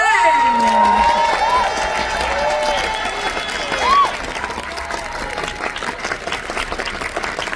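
At the Francofolies in Montréal, a concert crowd breaks into loud applause and cheering for the guitarist, with whoops and shouts rising over the clapping before the roar settles into steady, sustained applause.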